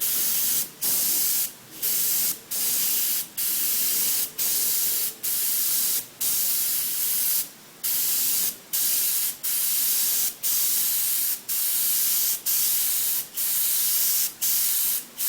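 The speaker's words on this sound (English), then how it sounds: "doing some more test sprays" Paint is sprayed in short test bursts of hissing spray, about sixteen evenly spaced pulses each lasting under a second with brief quiet gaps, close and steady with no talking.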